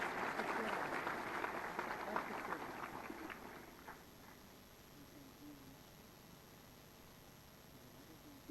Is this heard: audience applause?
yes